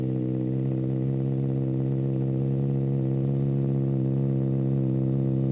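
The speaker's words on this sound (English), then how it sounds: "Now I'm going to just turn the motorbike on, and you'll hear what she sounds like." A Honda CBR600RR sport motorcycle engine idles steadily and close by, a low continuous rumble with a strong, even hum and no voices.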